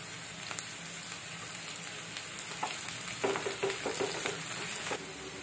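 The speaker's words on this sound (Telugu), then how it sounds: "దంచిన వెల్లుల్లి, కరివేపాకు వేసుకుందాం." Crushed garlic and curry leaves frying in oil for ridge gourd milk curry, a continuous close sizzle and crackle with a few louder spatters and stirring touches toward the end.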